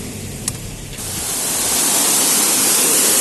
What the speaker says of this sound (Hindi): ये झरना मित्रों पहले यहां से सड़क के ऊपर से होते हुए नीचे जाता था